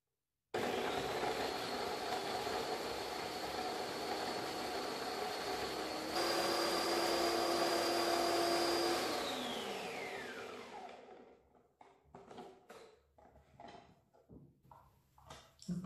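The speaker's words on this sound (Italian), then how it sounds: "aggiungo i filetti di acciughe e di capperi, un filo di olio extravergine e frullo per una quarantina di secondi" Kitchen blender whirring through anchovy fillets, capers and extra virgin olive oil: a loud steady motor drone for about ten seconds, its pitch shifting midway, then winding down and stopping, followed by faint clattering.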